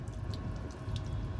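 Water streams and drips off a car body treated with a spray sealant coating, a brief, faint, steady trickle heard close up.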